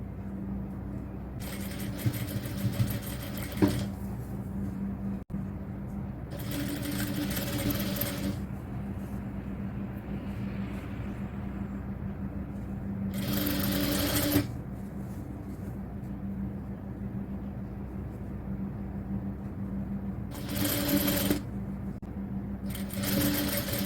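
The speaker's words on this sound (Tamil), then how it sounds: "இதே போல் இப்படி வச்சு தைக்கலாம்." A sewing machine stitches cotton top fabric in four separate bursts of steady, whirring running, each a few seconds long, with quieter pauses between them and a constant low hum underneath throughout.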